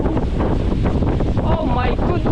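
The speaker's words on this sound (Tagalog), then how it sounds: "Ang lakas ng hangin" Strong wind buffets the microphone in loud continuous gusts outdoors among fruit-laden coconut trees, filling the clip with low rumbling roar and no clear talk.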